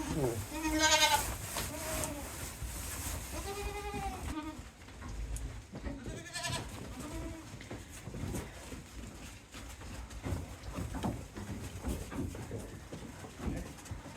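Several goats bleat repeatedly in a snowy farmyard near dinnertime, with loud wavering calls early on and fainter ones later, mixed with background rustling and occasional bird-like chirps.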